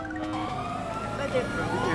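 A police car siren wails in the GTA video game, a steady, fairly loud warbling tone with a lower rumble beneath, and a voice may speak over it.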